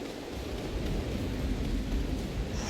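A thunderstorm rumbles in the video game Hades II, with steady rain-like noise and deep rolling thunder sustained throughout, loud and without talk.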